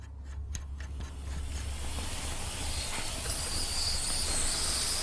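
Steam hisses from the open inlet valve of a salvaged steam boat engine, a broad airy rush that swells steadily louder over several seconds, with a few faint clanks early on.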